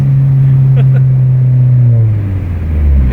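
A Dodge SRT-4 with a new exhaust accelerates with a loud, droning exhaust note that sweeps steadily downward in pitch, close and continuous, with voices faintly underneath.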